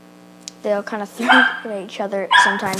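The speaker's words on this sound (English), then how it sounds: "Sorry about my dog barking in the background" A household dog barks and yips a few times in the background while a person keeps talking over it.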